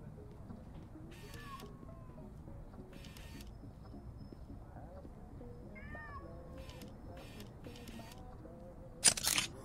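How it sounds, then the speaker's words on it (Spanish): In the video game Conway: Disappearance at Dahlia View, a cat meows faintly a couple of times over a quiet ambient backdrop with intermittent soft noises. "Estoy escuchando un gato y no sé dónde está."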